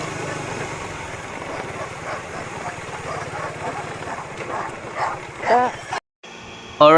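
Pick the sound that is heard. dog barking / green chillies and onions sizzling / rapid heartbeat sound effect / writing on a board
dog barking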